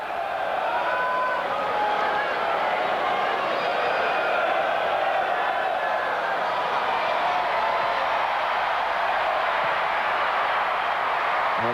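Steady crowd murmur fills a football stadium during a Finland versus England international, a broad continuous hum of spectators with no distinct cheer or chant standing out.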